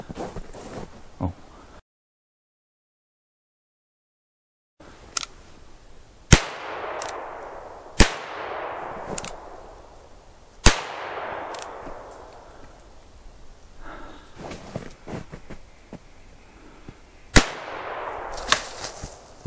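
Ruger Bearcat .22 revolver fired outdoors while grouse hunting: several sharp, close cracks spaced a second or two apart, each followed by a brief fading ring, with quiet rustling between shots.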